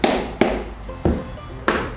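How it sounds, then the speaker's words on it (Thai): Four sharp, loud knocks land roughly every half second on a rubber casting mold to loosen it. The mold is for a life-size 1:1 figure. Each hit rings out close up, with a short resonant tail. "เคาะหน่อยเคาะเพื่ออะไรเพื่อให้มันแบบ มันขยับนะฮะให้แม่พิมพ์มันขยับ"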